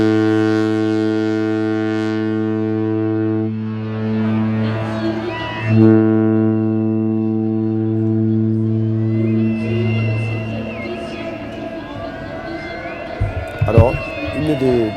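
A ship-horn atmosphere evoking a boat moored at a quay: a loud, sustained low harmonic blast holds steady for about ten seconds, then gives way to a murky harbour ambience with a few brief knocks near the end.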